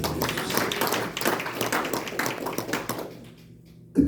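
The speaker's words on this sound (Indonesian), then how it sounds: "Kita beri tepuk tangan buat Tuhan Yesus." A church congregation at a Sunday sermon claps for Jesus, lively rhythmic clapping that fades out near the end into quiet before a sudden louder sound returns.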